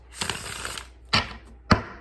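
A deck of tarot cards is shuffled, with a riffling stretch followed by two sharp, close taps as the deck is squared, all near and fairly quiet.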